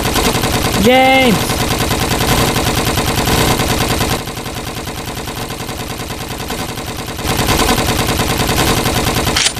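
Rapid gunfire in a Lego zombie animation rattles continuously and loudly throughout, with a voice shouting a name briefly over the shooting.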